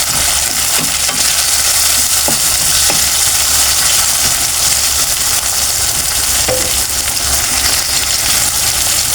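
Tomato sautéing in a hot pan while cooking ginisang kangkong with tinapa and chicharon, a steady, loud sizzle and frying hiss with occasional stirring scrapes throughout, no voices.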